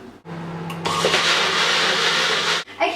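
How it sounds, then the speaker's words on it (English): A kitchen blender whirs loudly and steadily as it whisks eggs until light and fluffy for paleo lamingtons, starting with a lower hum, then running at full power for about two seconds before cutting off. "I've just finished sort of blending or whisking my eggs, and now they're nice and light and fluffy"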